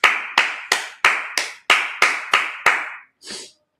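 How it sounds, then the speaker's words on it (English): Clapping in a crisp, evenly spaced rhythm of about nine loud single claps, then a short softer rustle at a Sabbath service. "Clap it up."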